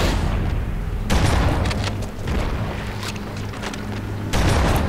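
A grenade blast in Halo: Combat Evolved, a loud boom at the start followed by rumbling gunfire and further blasts, with a final heavy burst near the end.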